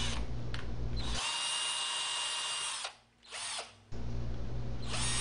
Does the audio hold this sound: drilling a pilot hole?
yes